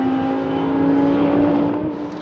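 Race cars, including a Lamborghini and a Porsche Boxster, run on the Paul Ricard circuit, producing a loud sustained engine drone with a steady pitch that swells slightly and then fades a little.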